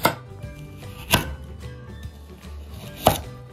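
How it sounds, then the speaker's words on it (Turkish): Carrots are chopped into large chunks on a cutting board, a few sharp knife knocks spaced unevenly with quieter board taps between, close and clear with no talk. "Ardından havuçlarımızı da iri iri parçalar halinde doğruyoruz."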